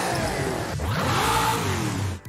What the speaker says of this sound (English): the ability to rev the engine during upgrade work